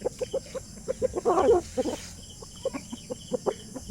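Chickens cluck in a backyard in a quick, irregular series of short soft clucks, fairly close, with a brief louder flurry partway through and no talking.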